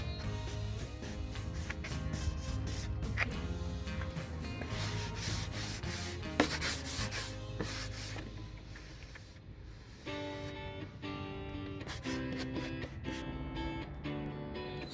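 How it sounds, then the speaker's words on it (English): Painted wooden edges of a live edge coffee table are roughed up by hand for a distressed vintage finish, giving a steady, continuous scraping rub with faint music underneath. "now we are just going to rough up the edges to give it that vintage look"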